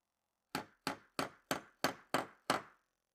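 Seven sharp, evenly spaced hammer blows drive twisted Sherardized nails into a metal pergola bracket on a wall plate, each strike a crisp ringing knock close by, with silence before and after.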